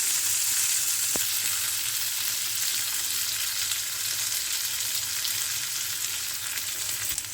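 Curry leaves and green chilli sizzle loudly in hot oil for a poha with peas, a dense, steady crackling hiss that fills the whole stretch, with one brief clink near the start.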